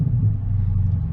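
A Dodge Scat Pack fitted with an MBRP Race catback exhaust gives a brief rev heard from inside the car, a muffled deep rumble that swells slightly then holds steady, with no talk.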